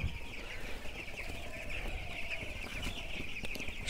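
Broiler chickens on a poultry farm cluck softly in cold weather, a faint continuous flock murmur with steady background hum and no talk.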